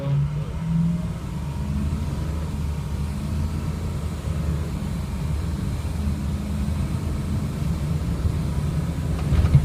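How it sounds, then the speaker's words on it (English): A 2007 Ford F350 diesel 4x4 pickup with its turbo engine driving along, giving a steady low engine drone and rumble throughout, close and continuous with a slight swell near the end. "This is turbo."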